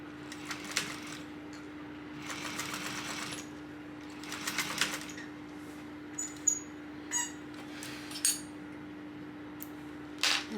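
A sewing machine runs in short bursts while chain stitching a topstitch along a tote bag, with pauses between runs and a few small clicks and taps near the end; a steady low hum sits underneath.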